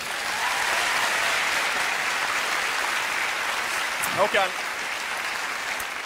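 Studio audience applause at a Swedish TV talk show, steady broadband clapping filling the whole stretch, with a brief voice breaking through partway.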